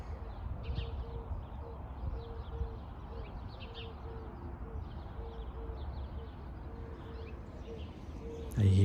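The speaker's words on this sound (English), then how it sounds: "I hear a dove." A dove coos softly in a spring garden side yard, repeated low hooting notes in a steady pattern, faint beneath outdoor ambience.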